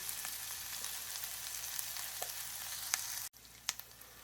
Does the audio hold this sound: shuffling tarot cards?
no